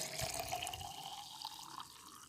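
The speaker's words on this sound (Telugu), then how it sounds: "సో వాటర్ అయితే యాడ్ చేస్తున్నాను" Water is poured from a jug or mug into a bowl of tea powder to soak as rose fertilizer, a faint, brief trickling fill.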